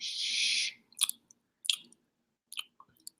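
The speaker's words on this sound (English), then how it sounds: "That's me chewing a bean." Close, moist chewing of a single cooked bean after a brief wet squish, followed by a few separate crunchy bites and soft mouth clicks, with no talking.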